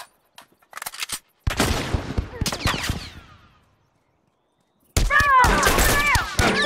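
Rifle gunfire in The Last of Us video game, a rapid burst of close, loud shots followed by a pause, then another dense volley with ringing tails.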